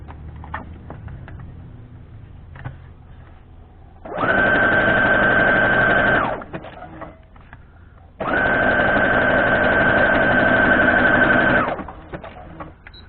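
Sewing machine stitching jelly-roll quilt strips, running in two steady bursts of about two and four seconds separated by quiet handling noises, loud and close.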